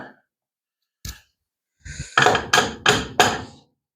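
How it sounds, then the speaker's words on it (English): A hammer taps metal parts during a 1934 Plymouth coupe build, one lone tap followed by a quick run of four loud, evenly spaced strikes up close. "I'll take the hammer and just kind of make them look a little better."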